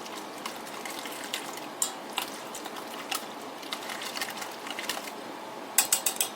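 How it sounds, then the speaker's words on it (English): Eggs being whisked by hand with cottage cheese, seasonings and green onion: a steady run of fast, light clicking and scraping against a bowl, continuous and fairly quiet, with a few sharper taps near the end. "Now I'm just going to whisk that all together"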